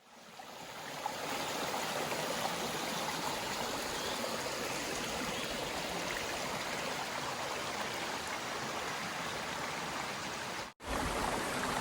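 A steady, full stream of flowing water rushing close by at an evening campsite, continuous and unbroken for the whole stretch, with no talking over it.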